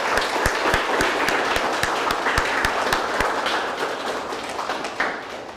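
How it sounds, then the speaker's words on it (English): Sustained applause from an outdoor graduation ceremony audience for a class of service-dog handlers in Ponte Vedra, Florida, with dense clapping throughout and a few sharper, louder claps standing out near the front. "please join me in another round of applause"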